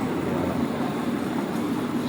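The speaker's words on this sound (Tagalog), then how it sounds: "So, ayun yung MRT." Dense, steady roar of an MRT train in the city, loud and close with a continuous rumbling hiss and no pauses over the whole short stretch.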